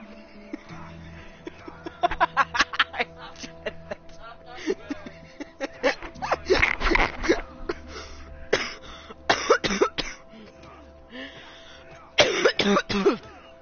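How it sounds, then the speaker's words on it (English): Coughing fit from a person, a series of sharp, harsh coughs and throat clearing in irregular bursts, mixed with talk and a little laughter. "I had a cough attack after that"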